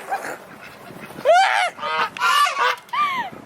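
Geese honk loudly beside a lake on a university campus, several nasal calls in quick succession over about two seconds, close by, with faint ambient noise and no talk.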